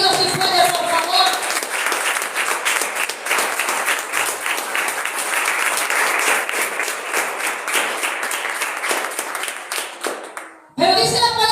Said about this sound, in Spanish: Dale un fuerte aplauso a Dios si puede, por favor.